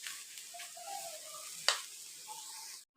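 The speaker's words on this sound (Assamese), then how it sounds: "এতিয়া ধুনীয়াকৈ এইখিনি মই খৰখৰীয়াকৈ ভাজি ল'ম।" Fish and dried red chilies fried in hot oil until crisp, giving a steady close sizzle throughout with a sharp crackle burst midway and faint stirring, no voices.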